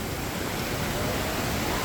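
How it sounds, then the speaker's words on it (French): A waterfall rushes as a loud, unbroken roar of white noise, close and steady for the whole moment with no voices. "j'étais dans la cascade et là c'est hyper joli,"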